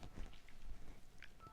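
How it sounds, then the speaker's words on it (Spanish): A cell phone rings or chimes in a room, with short, faint electronic tones that come and go over a low background hum. "Es que ese es el celular"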